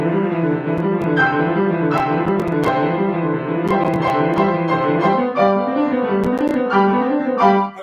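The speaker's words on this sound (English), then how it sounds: "So the very first etude from the School of Velocity sounds like this." Solo piano playing the first Czerny School of Velocity etude, a fast, running passage of quick repeated figures, steady and bright, with no voices.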